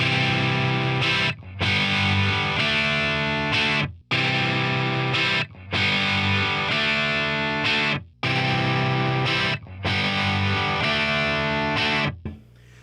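Crunchy, overdriven electric guitar chords through a Plexi-style tube amp built from a Mojotone British 45 kit, individual strings ringing clearly, played in repeated strummed phrases separated by short pauses.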